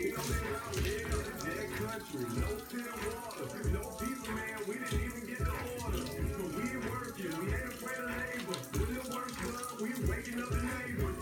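Tap water running over meat being rinsed in a kitchen sink, a continuous splashing gush with uneven spatter as the chicken is turned under the stream, with faint talk mixed in.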